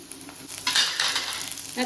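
Onions and curry leaves frying in a pan for chayote kuzhambu, a close, bright sizzle that swells partway through and carries brief scraping stir sounds.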